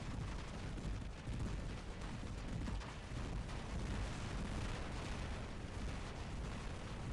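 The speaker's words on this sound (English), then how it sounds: "Here we are shooting bots from different angles" Rapid gunfire in a video game as players shoot at bots from several angles, a dense, steady clatter of overlapping shots with no pause.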